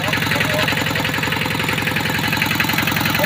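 A farm tractor engine runs while plowing a muddy rice field, where the tractor has gotten stuck. A close, steady, rhythmic chugging throbs throughout, with someone speaking over it.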